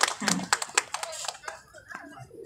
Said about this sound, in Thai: ปรบมือให้สีวนาถกับสีภูค่ะ